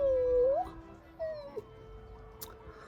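A voice imitates a cat howling, with a long wavering mournful tone followed by a shorter second wail, fairly close and clear.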